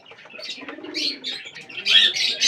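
Pigeons fed at night give soft cooing calls mixed with chirps and bursts of wing flapping, close by and fairly steady, with no talking.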